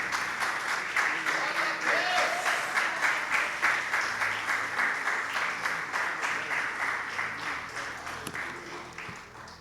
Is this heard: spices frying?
no